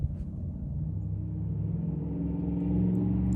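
A truck's engine rumbles low and steady, growing gradually louder as it drives past; no barking or other dog sounds stand out.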